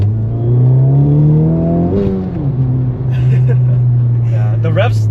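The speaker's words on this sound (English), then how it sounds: "the rev hang makes it want to climb even after I dip the clutch in" A 2023 Acura Integra Type S engine revs loudly up close, climbing steadily, then dropping and hanging high as the clutch is dipped, followed by a sustained drone with faint sounds layered on top.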